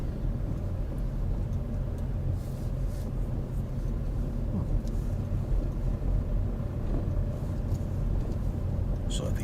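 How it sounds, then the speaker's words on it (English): A car engine runs at a steady low rumble during a driving lesson, holding an even, droning hum throughout. "So the engine's still revving, so it takes the power a little quick."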